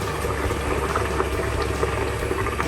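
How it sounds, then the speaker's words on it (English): Water bubbles at a steady rolling boil in a steamer for rava dhokla, a constant churning hiss with occasional small pops, close by and uninterrupted. "So now the water is boiling"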